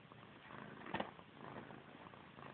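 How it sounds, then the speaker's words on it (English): A grey cat purrs softly and steadily, close by, while fussing with its own tail, with a brief louder rustle partway through. "Why are you purring, Gray?"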